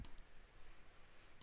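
Chalk or marker writing an equation on a board in a classroom, faint scratchy strokes in short bursts with no talking.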